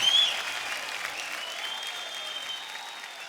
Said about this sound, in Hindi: एक बार जोरदार तालियां हो जाए शक्ति जी के लिए और पत्नी जी के लिए